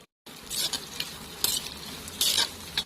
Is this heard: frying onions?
yes